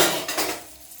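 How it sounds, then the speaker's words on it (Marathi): A metal lid clatters onto a pan of prawns frying over low heat for a rava fry, giving a short close clink with a faint sizzle that fades away. "तर मंद आचेवर थोडंसं झाकून ठेवते त्यांना."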